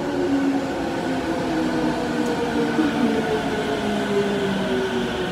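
A steady low rumble and hum of a train close by at a station, with sustained tonal whine and no pauses.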